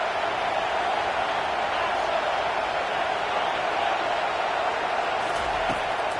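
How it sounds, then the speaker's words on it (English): Football stadium crowd roaring at a playoff game, a steady, dense wall of cheering and noise that holds loud and unbroken throughout. "It's early, but this crowd is fired up. Listen to this noise here."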